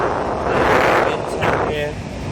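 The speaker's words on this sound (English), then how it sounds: "Switch on the fan. We're on cold. AC is on." The air conditioning fan in a Hyundai Starex 12-seater van blows cold air in a steady, loud rushing stream close to the microphone, with a brief fainter tone near the end.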